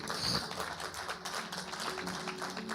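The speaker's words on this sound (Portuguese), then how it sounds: "Aplauda mais forte ao Senhor." Church congregation clapping for the Lord during a family worship service, a dense steady patter of many hands at moderate level with a faint voice mixed in.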